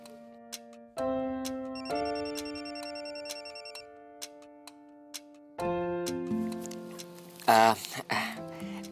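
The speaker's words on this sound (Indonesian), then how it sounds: "Aku terima telepon dari papi aku. Dari Jerman nih, telepon di luar negeri." An incoming call on a phone plays a melodic electronic ringtone in clear, separate tones, loud and close, with a short burst of other noise near the end.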